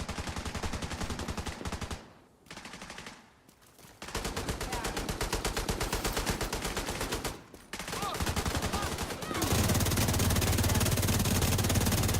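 Video game gunfire rattling in loud rapid bursts, broken by brief pauses, then settling into a continuous barrage.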